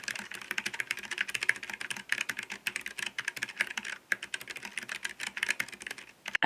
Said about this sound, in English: Let's go ahead and do a quick sound test.